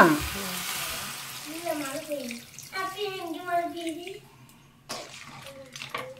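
Water poured into a hot pan for crab rasam hisses and sizzles loudly at first, then settles into bubbling as a voice talks over it.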